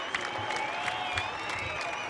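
Crowd cheering and applauding at the women's under-23 ultimate frisbee final between USA and Japan, a dense, steady roar of clapping from a distant stadium audience.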